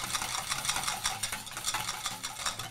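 A whisk beating a small amount of cream, about one and a half tablespoons, in a bowl to thicken it, heard as rapid, steady, close scraping strokes with no voices.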